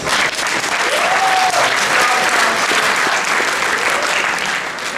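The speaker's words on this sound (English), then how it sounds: "you give Erickson a round of applause" A planetarium audience applauds Erickson, a steady, dense round of clapping filling the room at even loudness, with a faint voice briefly audible beneath it.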